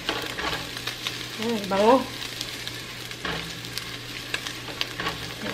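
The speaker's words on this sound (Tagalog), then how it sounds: "Fry lang natin yung garlic, guys." Garlic fries in a nearly dry pan with only a little oil, giving a steady low sizzle with occasional stirring scrapes and a short louder burst near the middle, while a voice speaks briefly.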